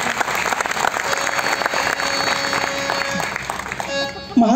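Audience applause at a powada folk performance, a dense steady patter of many hands clapping throughout, fairly loud, with some tonal music or voice lines underneath before a brief louder burst at the end.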